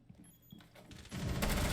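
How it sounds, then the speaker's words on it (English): A flashbang grenade goes off during a Rainbow Six Siege college esports match, Marietta College vs. Atlantic University, with quieter game clatter building into a loud, dense broadband blast that fills the final half second. "Flashbang comes out"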